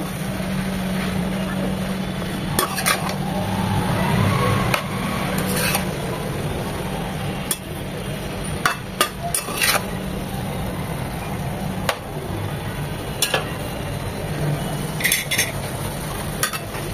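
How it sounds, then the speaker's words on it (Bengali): Batua greens cooked with salt in a pan, stirred with repeated spatula scrapes and clatters over a low sizzling bed, close and fairly loud. "লবণটা দিয়ে নেড়ে চেড়ে আর একটু মিশিয়ে নেব।"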